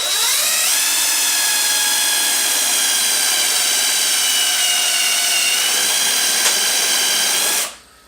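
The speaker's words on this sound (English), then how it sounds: "So I'll drill it now before the top's in" A power drill bores a fastener hole in a Yamaha Commando motorcycle, its high whine held steady and loud for several seconds before cutting off abruptly.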